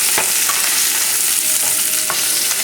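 Small pieces of oxtail brown in a hot pan, a loud continuous sizzle of frying with a few sharp scrapes and taps from stirring scattered through.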